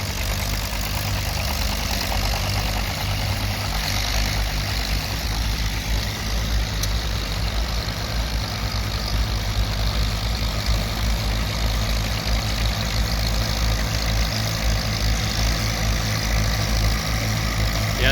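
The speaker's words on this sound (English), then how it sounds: "we got a Farmall M pulling a John Deere plow" A Farmall M tractor pulling a three-bottom John Deere plow chugs steadily and continuously at moderate volume, a low, even mechanical drone with no talking.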